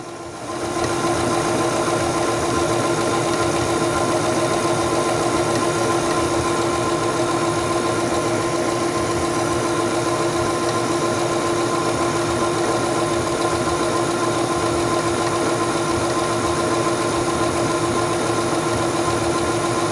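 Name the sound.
Singer Stylist 7258 sewing machine sewing fabric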